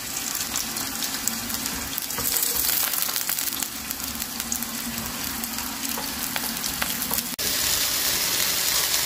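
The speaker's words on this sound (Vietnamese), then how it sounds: "Dầu đã nóng rồi nè, mình sẽ bỏ chuối vào." Green banana pieces hit hot oil in a pan and fry with a loud, steady, crackling sizzle throughout, close up, with a brief dip and a fresh burst of spitting near the end.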